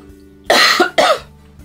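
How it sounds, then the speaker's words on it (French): A woman coughs twice in quick succession, close and loud, over a faint steady background hum. "je suis désolée si je tousse"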